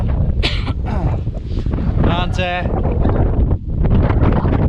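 Strong wind buffets the microphone at Winnats Pass, roaring steadily near and loud, with a person speaking briefly over the gusts.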